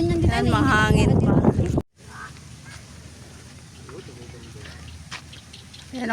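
Wind rushing past an island-hopping boat out at sea off Tingloy, Batangas, a continuous rough buffeting roar on the microphone that follows a brief burst of a person talking.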